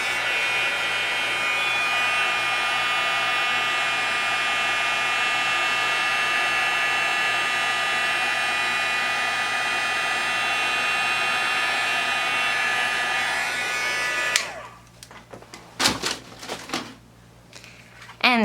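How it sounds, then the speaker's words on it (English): A heat gun melts embossing powder on a card, its loud, steady airy whir running alone for most of the stretch before cutting off abruptly, followed by a few brief handling sounds. "now that it's very hot, obviously, you won't want to scratch it at the moment"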